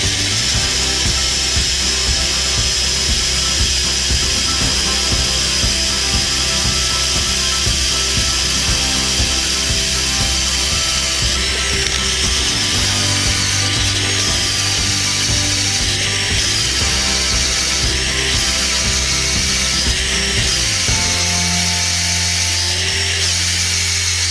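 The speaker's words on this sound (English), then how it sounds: "I'm actually putting hardly any pressure on the drill at the moment" A power drill grinds continuously into soil with hardly any pressure, boring a hole for a termite monitoring station, a loud, steady rough whir with shifting pitch as it bores down, no voices.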